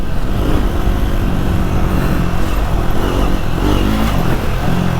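A Triumph Scrambler 400 motorcycle being ridden, with a steady, loud engine drone and heavy wind rush that continue without a break.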